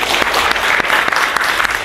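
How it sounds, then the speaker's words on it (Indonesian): A school audience claps briefly and loudly, a close ragged burst of hands with distinct individual claps standing out, no talking over it. "Luar biasa, tepuk tangan dong."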